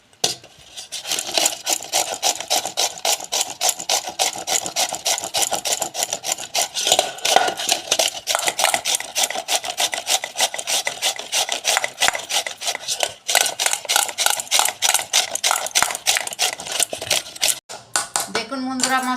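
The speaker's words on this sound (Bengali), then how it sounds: "এইভাবে আমি ঘষে নেবো সব পেঁপেগুলো" Ripe or green papaya being rubbed against a metal grater, a steady run of fast raspy scraping strokes close by that continues without pause, with a brief clatter near the end.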